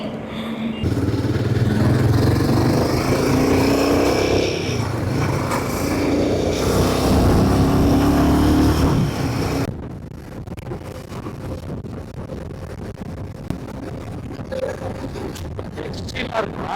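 Royal Enfield Himalayan motorcycle accelerating along an open road, a loud, steady engine roar mixed with heavy wind rush for about ten seconds, then dropping to a quieter, steadier hum with wind noise.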